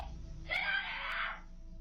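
Girl screaming inside a house, caught on a Ring doorbell camera: one sustained, strained scream lasting under a second, somewhat distant and muffled, over a low background hum.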